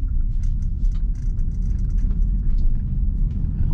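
A Tesla drives through a residential neighborhood and takes a corner a little fast, a steady low road rumble and tire whir filling the cabin close up, with no talking.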